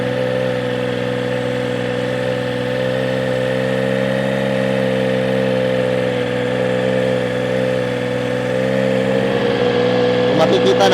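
A 2025 Triumph Trident 660 motorcycle fitted with a shorty exhaust holds a steady rev around 2,000–2,500 RPM, a loud, close, even drone with strong low harmonics, shifting slightly near the end.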